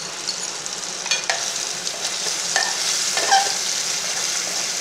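Seer fish (vanjaram) frying in oil in a pan makes a continuous bright sizzle, broken by a few light scrapes and clinks of a utensil, close by and with no talking.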